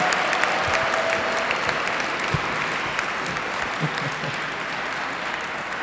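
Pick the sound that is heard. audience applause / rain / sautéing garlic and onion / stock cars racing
audience applause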